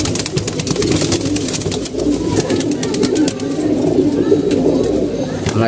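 Many pigeons in a loft coo in overlapping low, throaty calls close by, with wing flutters and scattered clicks throughout.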